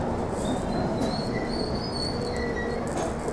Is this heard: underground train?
yes